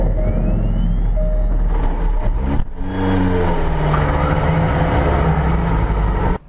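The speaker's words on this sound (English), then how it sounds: "we hear the engine roar into life for the first time" A Jaguar C-X75 hybrid supercar engine fires up with a sudden bang, then settles into a loud, close, steady roar with layered droning tones that holds until an abrupt cutoff.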